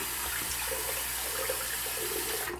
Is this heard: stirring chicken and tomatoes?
no